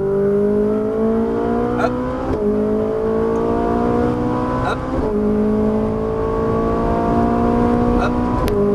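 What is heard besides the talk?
Ferrari 458 Italia accelerating and upshifting on track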